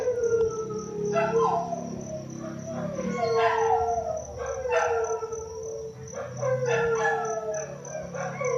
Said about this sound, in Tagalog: Yung bahay na yan, yung aso nila laging umaalulong.